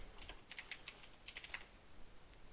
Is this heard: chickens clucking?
no